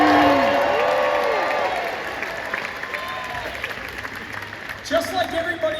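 An audience at the 2023 Red Sox Winter Weekend breaks into loud applause and cheering that gradually fades into lighter clapping, with a voice speaking over it and a brief renewed burst near the end.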